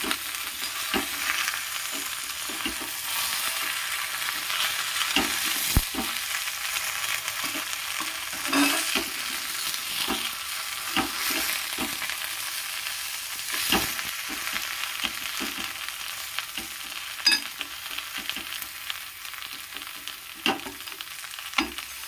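Fish cooks in masala with tomato, giving a low continuous frying hiss while a spatula scrapes and taps the pan in frequent irregular strokes throughout.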